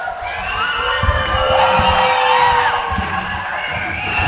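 A combat-event crowd cheers and shouts for fighter Brad Cowie's walkout, a sustained roar of voices with scattered thumps underneath.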